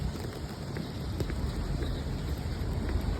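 Heavy rain falling steadily outdoors, a constant faint hiss with scattered drop patter and no talk.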